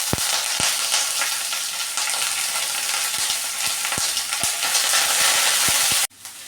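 Curry leaves and crushed garlic sizzle loudly in hot oil for a Kerala fish egg roast, a steady close frying hiss with occasional sharp pops and stirring clicks, then a sudden drop to a quieter sizzle near the end.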